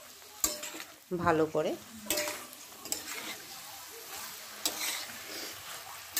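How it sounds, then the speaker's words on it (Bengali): Lightly fried chicken and potatoes get stirred in a kadai for Hyderabadi chicken biryani, with loud metallic scrapes and clanks over a soft background sizzle and a brief spoken phrase. "তারপর ওই যে হালকা ভাজা যে চিকেন এবং আলুগুলো ছিল সেগুলো আমরা সবটা কড়াইতে দিয়ে দিলাম। এখন আমরা আবার এটা মিশিয়ে নিচ্ছি"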